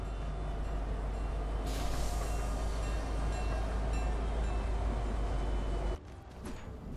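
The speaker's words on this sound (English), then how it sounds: "almost got hit by the train." A train rumbles past in Fortnite Chapter 5: a loud, steady, close roar that holds for about six seconds, then cuts off abruptly, leaving quieter game ambience.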